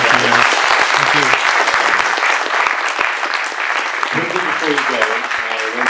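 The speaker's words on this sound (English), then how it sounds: "You can give them a round of applause" An audience claps for two speakers after a talk, loud dense applause filling the room, with someone speaking over it briefly near the end.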